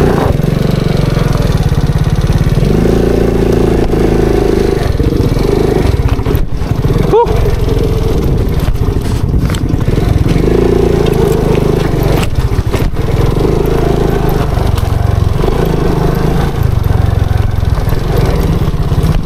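A motorcycle engine rumbles and revs steadily throughout, loud and close, with knocks and scrapes as sharp rocks scrape under the engine on a rough mountain trail.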